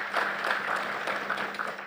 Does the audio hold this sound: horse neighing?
no